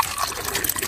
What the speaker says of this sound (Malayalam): ഫിൽറ്റർ ചെയ്യാത്ത വെള്ളം ടാങ്കിൽ നിന്നും ഡയറക്റ്റ് ഇറങ്ങി വരുന്നത്.